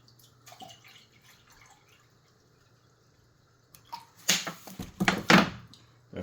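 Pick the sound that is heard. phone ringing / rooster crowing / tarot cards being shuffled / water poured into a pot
water poured into a pot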